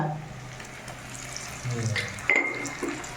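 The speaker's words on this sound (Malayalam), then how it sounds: "വെളിച്ചെണ്ണ ചൂടായി ഉള്ളിയും പച്ചമുളക് ഇട്ടോളും" Onions and green chillies frying in hot coconut oil for a Malayalam pathila thoran, with a soft steady sizzle, a brief louder hiss and stirring clatter near the end.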